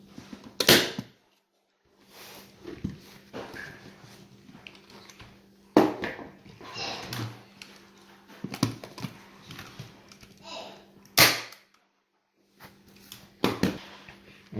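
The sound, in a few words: staple gun stapling upholstery fabric onto dining chair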